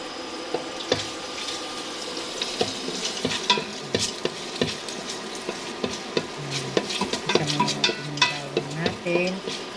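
Garlic frying in a pot for arroz caldo, a sizzle under steady stirring and scraping, with clinks of the utensil and some running water nearby.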